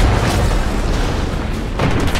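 A tank blows up in a video game with a loud, rumbling explosion that roars on without a break, briefly dips, then swells again.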